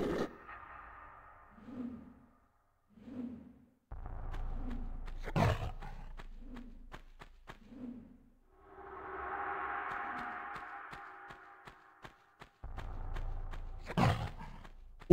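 A bear in the video game Tomb Raider 1 Remastered lets out repeated short, low growls at a steady pace, with a swelling breathy roar in the middle and sharp game clicks scattered throughout.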